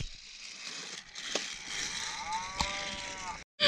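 Cow mooing in a Thomas the Tank Engine cartoon scene on a marshland railway line, one long, low, wavering moo rising out of background hiss and music, ending in a brief silence and a sudden louder noise.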